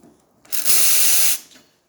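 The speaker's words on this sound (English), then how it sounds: "Nice strong steam." A strong, steady hiss of steam blasting from a freshly serviced Profitec espresso machine wand for under a second, starting and cutting off abruptly, close and loud.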